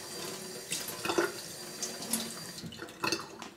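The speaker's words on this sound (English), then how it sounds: "just get it wet in the sink" Water runs steadily from a tap into a sink as cardstock is soaked, with a soft continuous splash and a few brighter spatters and drips from handling the sheet.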